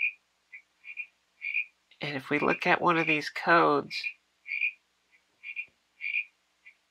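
Recorded frog croaks play from an MP3 player in an animatronic frog build, short chirpy croaks repeating in a steady rhythm, clear and close, with someone talking over them partway through.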